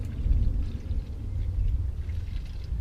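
Red liquid from a jug glugs out in a low, continuous pour lasting a few seconds, used for cleaning a motorcycle.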